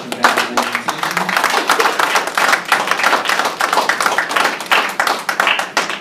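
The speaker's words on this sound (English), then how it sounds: "Let's get a round of applause for Steve Brown" A room full of people claps in a dense, sustained round of applause honoring Steve Brown at a trunk party, loud and continuous.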